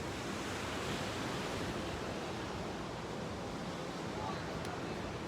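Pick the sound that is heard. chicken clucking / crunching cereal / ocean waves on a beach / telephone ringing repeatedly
ocean waves on a beach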